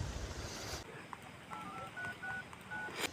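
A mobile phone being dialed, a quick series of short beeping keypad tones pressed one after another, faint and close, with a brief voice at the start.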